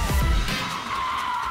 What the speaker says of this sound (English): A drift is when the car's tail comes out.